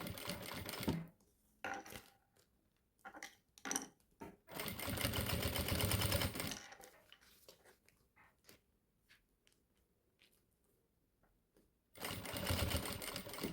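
A sewing machine stitches synthetic material in loud, steady bursts of rapid mechanical chatter. Quiet pauses and small clicks come between the bursts, and there is no speech.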